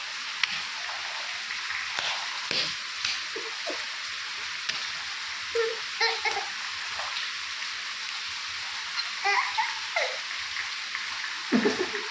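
Heavy rain falls steadily as a broad, continuous hiss at a household veranda, with scattered brief knocks and thumps and occasional voices breaking through the downpour.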